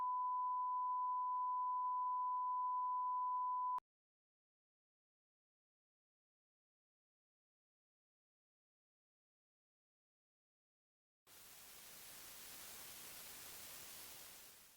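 A steady, pure buzzing tone imitates tinnitus ringing in the ear, holding level for nearly four seconds before cutting off. A long silence follows, then a burst of loud hiss.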